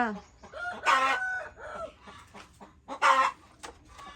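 A hen cackling after laying an egg, loud close calls in two strong bursts with quieter clucks between them.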